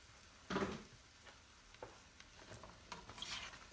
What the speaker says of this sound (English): And now we're gonna add our zucchini.